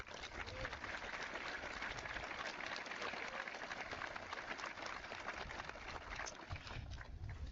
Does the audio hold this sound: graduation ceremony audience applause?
yes